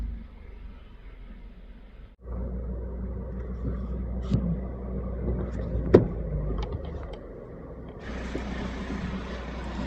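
A car grinding slowly up a rough mountain track toward a remote village, low steady engine rumble with occasional knocks and rattles from the bumpy ground, fairly quiet and continuous.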